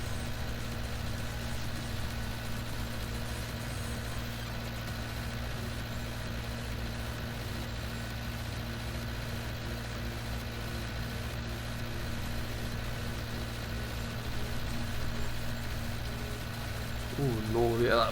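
Steady tractor engine idling in the farming video game Farming Simulator, a continuous low droning hum with a constant tone, loud and unbroken throughout with a slight swell near the end.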